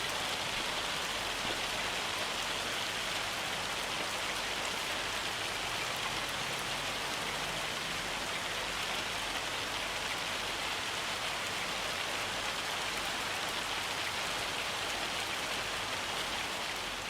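Hail and rain falling in the farming game Farming Simulator 25, a dense, even hiss of drops pattering on surfaces, steady and unbroken throughout with no voices.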